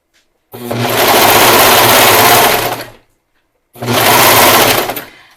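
A sewing machine runs a circular 1/4 inch seam on a gaiter in two loud bursts, the first about two and a half seconds long and the second shorter, with a brief silence between them.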